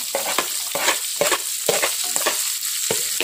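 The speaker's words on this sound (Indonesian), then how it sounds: "sekarang selanjutnya kita baru masukkan ini irisan dari cabai merah dan cabai rawit" Sliced red chili and bird's eye chili fry in a pan for a salty fish stir-fry, a bright, close hiss broken by quick, rhythmic scraping strokes of a spatula stirring.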